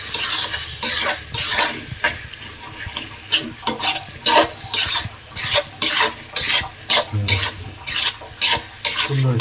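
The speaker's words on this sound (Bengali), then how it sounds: "নাড়া দিয়ে দিই।" Boiled potatoes are stirred in a frying pan with a spatula while cooking aloo dum, giving rhythmic scraping and clinking strokes over a soft sizzle, close and fairly loud, with no talking.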